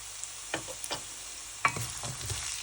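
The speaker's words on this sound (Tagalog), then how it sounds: "Stir to fry the onion," Onions frying in a pan with sizzling underneath as a utensil stirs them, giving several scraping knocks and clatters nearby, with no talking.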